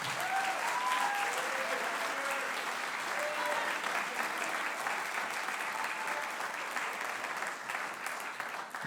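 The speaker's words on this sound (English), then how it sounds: "Please give those students a round of applause." Audience at a spring school band concert gives a sustained round of applause for student soloists, dense steady clapping throughout, with a few faint voices and whistles mixed in near the start.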